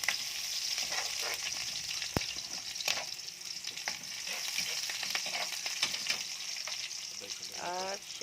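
Garlic and onion sautéing in a pan for Filipino adobo sa gata, a soft continuous sizzle with occasional stirring clicks and scrapes, faint and close without any talking.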